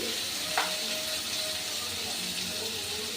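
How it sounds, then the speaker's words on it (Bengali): A ground paste of chili and ginger with turmeric powder fries in oil, giving a soft continuous sizzle with a faint tap of a utensil near the start and light stirring throughout. "মশলাটাকে আমি ভালো করে তেলের সাথে কষিয়ে নেব"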